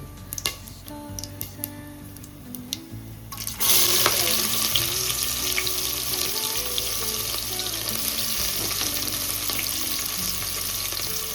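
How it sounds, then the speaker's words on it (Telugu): Cooking oil poured into a heated pot on a village stove for bagara rice, quiet clinks first, then a sudden loud crackling sizzle that settles into steady frying hiss. "గిన్నె వేడైందండి, ఆయిల్ వేసుకుందాం."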